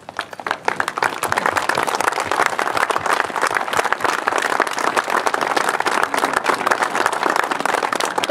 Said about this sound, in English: stand up so we can give you all a round of applause.